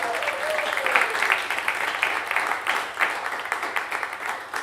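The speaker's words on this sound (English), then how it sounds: "how about one more round of applause for Merrill Miller, the first half of the show?" Live radio-show audience giving a round of applause for Merrill Miller after a bluegrass-style set, a sustained, full crowd clapping that swells and tapers, with a faint voice briefly heard.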